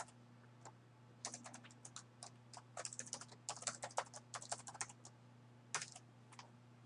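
A root password is typed on a computer keyboard during an Oracle Linux 7 installation: quiet clicking keystrokes in irregular bursts over a low steady electrical hum, faint and close, without talking.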